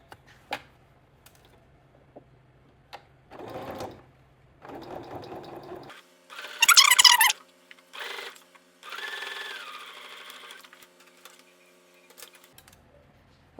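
Sewing machine stitching a finishing seam on fabric for a two-piece outfit, running in several short bursts with pauses, the motor whirring and needle clattering close by, no voices.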